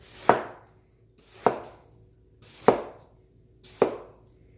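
A knife chops down through a watermelon on a cutting board, four sharp, solid thuds about a second apart, close and loud with short decays and no talking.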